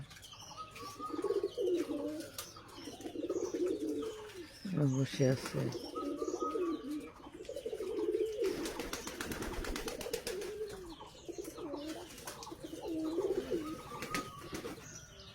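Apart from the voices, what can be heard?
pigeons cooing at their nest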